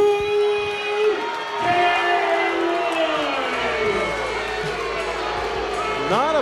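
A boxing crowd at Michael's 8th Avenue ballroom reacts to an unpopular judges' decision: a sustained, loud roar of voices, murmuring and jeers rising and falling continuously throughout.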